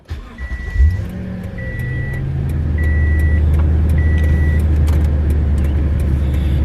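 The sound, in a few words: Toyota Tundra truck engine starting and idling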